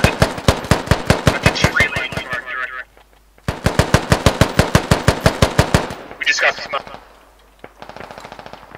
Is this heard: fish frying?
no